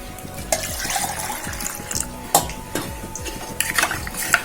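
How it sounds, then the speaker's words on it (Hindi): Water being stirred into curd in a pot, with close wet sloshing and repeated scraping and clinking of a spoon against the vessel, plus a few sharper knocks, no talking. "और मैं इसमें डाल दूँ दही, और मैं इसमें करूँगी पानी मिक्स।"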